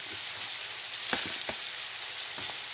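Dates and tamarind are stirred together in a hot pan for chow chow pickle. A soft, continuous sizzle is broken by a few scraping knocks of the spoon.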